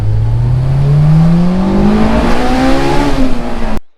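A Honda S2000's 2-liter four-cylinder engine revs hard toward 9,000 RPM, its loud, steadily rising wail climbing in pitch for a few seconds before cutting off abruptly.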